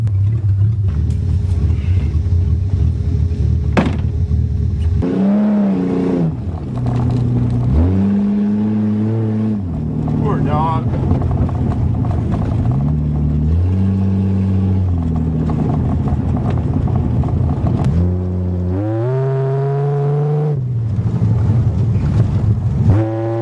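A 1982 Toyota Cressida driving in the rain, its engine loud and steady with repeated revving swells as it accelerates and shifts, plus a continuous wet road rush and wind buffeting at the microphone.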